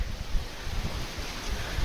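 Steady, low rumbling wind buffeting the microphone, with a continuous broadband rush and no voices.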